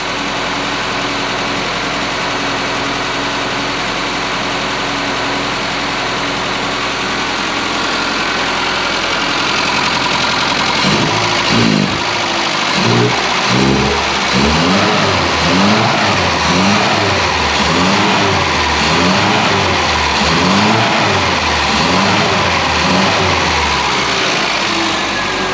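A classic Mini Clubman Estate engine first idles unevenly and alone, then is revved in a series of repeated rising and falling bursts, loud and close, with no talk over it.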